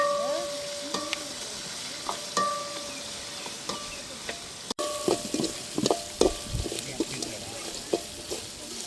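Onions and green chillies fry in oil in a pan at a family home, a steady close sizzle broken by scraping stirs and occasional clinks of a utensil.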